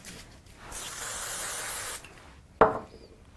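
Adhesive sprayed from a can onto the back of a card piece, a steady close hiss lasting over a second, followed by a short sharp clack.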